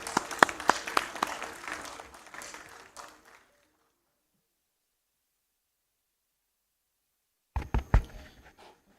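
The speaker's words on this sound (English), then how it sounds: "Let's welcome with a round of applause." Audience at a formal university outreach session in Delhi claps for about three seconds, dense then fading out, followed by silence before a brief second flurry of claps near the end.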